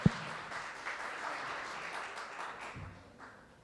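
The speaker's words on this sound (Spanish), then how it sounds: "para quien pido un fuerte aplauso." Audience applause welcoming a speaker at an academic event on Indigenous communities in Mexico, a moderate spread of clapping from a seated crowd that swells briefly then fades over a few seconds.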